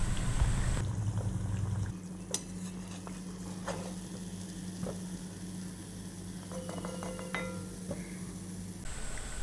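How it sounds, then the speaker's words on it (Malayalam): A sweet homemade snack fries in hot oil with a soft, continuous sizzle, broken by occasional clinks and stirring taps of a utensil against the pan, with no talk. "അപ്പോൾ നമുക്കിനി എല്ലാം ഇതുപോലെ ഒന്ന് വറുത്തെടുക്കാം."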